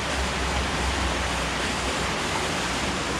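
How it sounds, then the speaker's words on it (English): Creek water flowing steadily in a park in San Gil, Santander, Colombia, a continuous broadband rush with a low rumble, close and even, with no voices. "Another creek."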